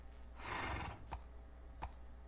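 Horse in a survival video game giving one breathy whinny followed by two short clicks, fairly faint over a low steady hum.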